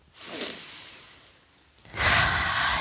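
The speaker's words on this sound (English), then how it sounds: "Take a couple of deep breaths with me." Two slow, deep breaths, each a long airy inhale and exhale, rise close and clear in a quiet room during a calm kids' yoga session, with a short pause between them.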